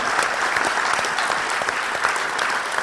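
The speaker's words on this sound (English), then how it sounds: "let's give Christian a round of applause" Close, steady applause from a conference audience at a Berlin startup panel, a thick continuous wash of many hands clapping with no break over a few seconds.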